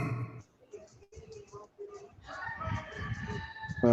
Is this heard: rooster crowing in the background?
yes